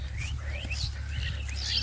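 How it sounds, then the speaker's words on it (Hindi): Many birds chirp together in a village in winter, with faint, scattered, high tweets over a low steady background rumble. "कितनी सारी पक्षी है एक साथ"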